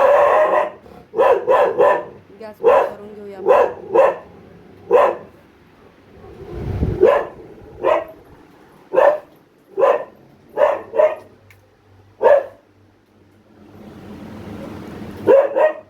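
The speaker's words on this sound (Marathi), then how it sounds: "मध्ये माझा डॉगी पण भुकतो" A dog barks repeatedly nearby, about a dozen sharp, loud barks in irregular bursts, with a brief spoken remark in between.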